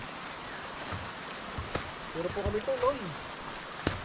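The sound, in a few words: rain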